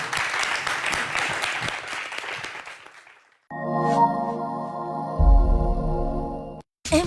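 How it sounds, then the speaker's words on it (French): Studio audience applause on a French-language television show, a burst of dense clapping that fades out after about three seconds, giving way to a loud musical jingle with a heavy bass thump. "Allez, on applaudit pour mes chéris."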